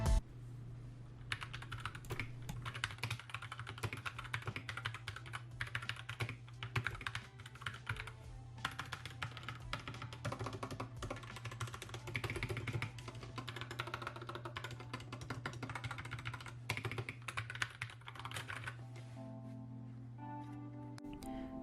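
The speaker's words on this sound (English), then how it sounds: "here's a sound test for the Gateron brown switches" Steady, fairly fast typing on a budget 60% Asceny One keyboard fitted with Gateron brown switches, dense clacking keystrokes running continuously and alone, close up.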